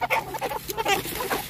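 Big meat chickens clucking and murmuring near the microphone ahead of harvest, a steady run of overlapping clucks and short calls with no pauses.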